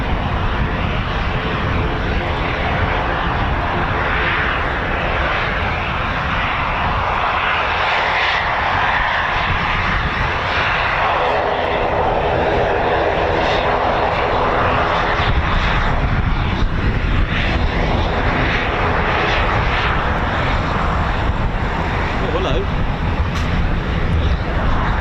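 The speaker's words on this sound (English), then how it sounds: "we'll just catch this C-146 Wolfhound depart" A Lockheed C-146 Wolfhound departs from an RAF airfield, its engine roar loud and continuous throughout, with a broad steady drone that swells slightly toward the end and a voice talking over it.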